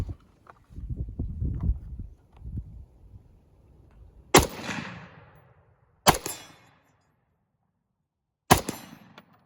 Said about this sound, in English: Let's put more round down range